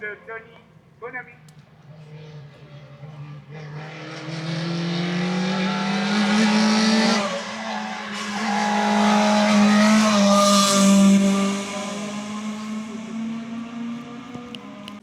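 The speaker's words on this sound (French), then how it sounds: "La Renault Mégane de Tony Bonami" Renault Mégane race car at a hill climb at La Membrolle–Fondettes, starting faint and far off, then roaring close with sustained high revs and a few gear changes before fading, while a commentator talks throughout.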